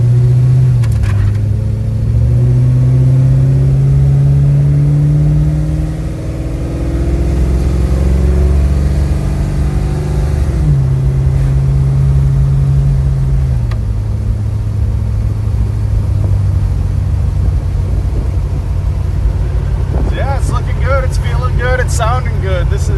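A 1987 El Camino with an LS engine swap revs hard and close, engine pitch climbing in long pulls, dropping and rising again as it accelerates, with people talking over it.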